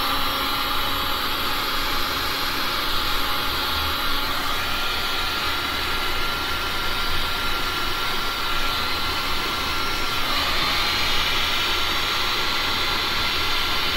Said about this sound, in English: now I'm just going to blow straight down on each of those